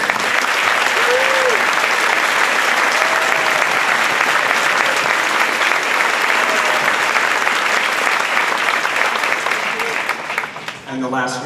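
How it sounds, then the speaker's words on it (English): Loud, sustained applause from a large audience at a high school marching band indoor show, a dense even wash of clapping that holds for the whole stretch and thins slightly near the end. "Can we give our administrators a huge round of applause?"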